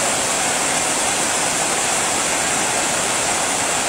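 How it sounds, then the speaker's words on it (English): Torrential rain pours onto the roof of a temple at an ashram, a dense, steady roar of broadband hiss that holds constant and loud without any break. "just see the torrential rain"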